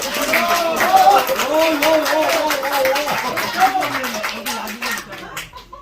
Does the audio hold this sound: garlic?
no